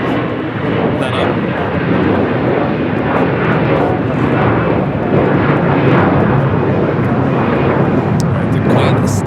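Airliner known as the Queen beginning its takeoff roll at LAX, a steady broadband jet roar building loud and continuous throughout, with wind buffeting the microphone and no voices.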